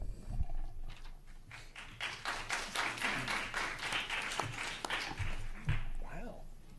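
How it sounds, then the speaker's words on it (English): Applause at a school board meeting, a burst of clapping from a small audience lasting several seconds at moderate distance, with voices talking over and around it. "Applause before you speak is always great."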